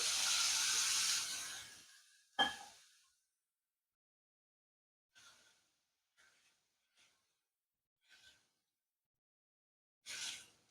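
Water poured into a hot cooking pan, ahead of simmering potatoes, hisses loudly and steadily for about two seconds, gives a sharp splash burst, then fades to a few brief, faint sizzles and spits with silence between.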